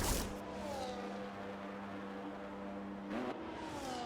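An Aston Martin race car pulling out of the garage in a Monza racing game, a steady engine whine holding a constant pitch, then a brief rev and gear change near the end, no voice.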